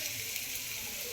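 Chicken masala and chilli powder sizzle and fry in a pan while being stirred for egg biryani, a steady close hiss with faint scraping, no talk.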